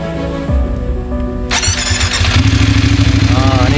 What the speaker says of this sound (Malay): Ni Vogue motor Vogue 900.